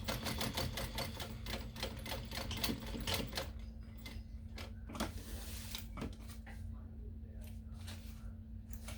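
A sewing machine back stitching over a zipper on a small backpack runs in a rapid, steady mechanical stitching burst, stops, then gives a few short separate stitches and clicks with a low hum.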